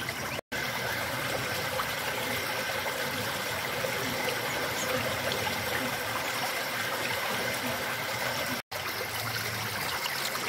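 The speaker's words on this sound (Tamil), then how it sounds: "இதுக்குள்ள இருந்து தான் தண்ணி வந்துகிட்டு இருக்கு" Water flows from a spring in Bogalur village, a steady close trickling rush that runs without pause apart from two brief dropouts.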